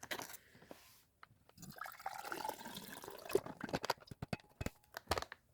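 Shaken red MRE drink poured out of its pouch into a container, a short liquid splash and trickle with several sharp drips and taps, close and fairly quiet.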